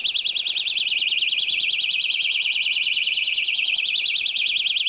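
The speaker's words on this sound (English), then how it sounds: "The Rockwool has pretty much absorbed the sound of the panic alarm" A panic alarm sounds inside a box packed with Rockwool insulation, a shrill warbling electronic tone that pulses rapidly and steadily, muffled but continuous and alone.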